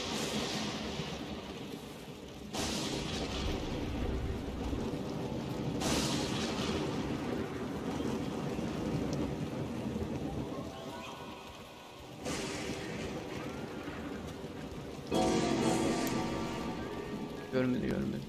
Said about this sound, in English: Storm keeping you up?